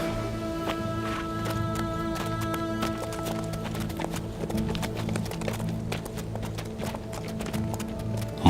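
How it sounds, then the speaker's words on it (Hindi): Horses' hooves clop steadily while soldiers tether their mounts in a period setting, the hoofbeats mixed under a continuous bed of music and ambience, with irregular taps spread across the stretch. "घोड़े यहीं बांध दो।"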